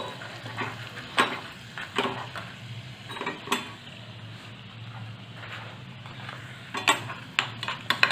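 A spoon clinks and scrapes in a pan as red chili powder is stirred into a dal tadka with the heat off, sharp metallic taps scattered over a faint, quiet sizzle.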